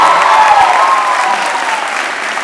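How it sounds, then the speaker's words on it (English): Audience at a WPI undergraduate commencement ceremony breaking into loud, dense applause that starts strong and slowly tapers over a couple of seconds, with no voices. "please stand and get another round of applause"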